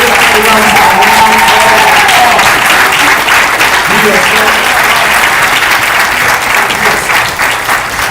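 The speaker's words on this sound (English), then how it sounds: "Let's give him a round of applause." An audience at Edward Waters University applauds a guest speaker at a distinguished speaker series, loud continuous clapping from a big crowd that holds steady, with a voice talking over it early on.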